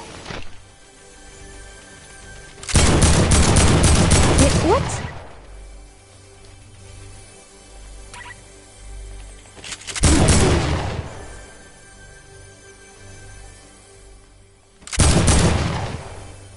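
Loud bursts of rapid automatic gunfire in Fortnite erupt in three separate volleys, each lasting a second or two, with quieter game ambience and some speech between them.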